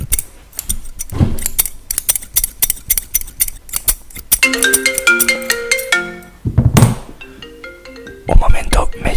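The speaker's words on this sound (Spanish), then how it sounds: "Un momento, me llaman al teléfono." A phone ringtone plays a bright melodic tune of stepped electronic notes midway through, over close rapid scissor snips and mechanical clicking from a haircut.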